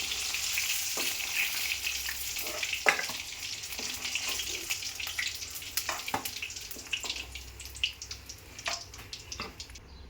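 Eggplant pieces fry in hot oil, giving a steady close-up sizzle with crackling pops and a few sharper spatters, and no voices, for about ten seconds.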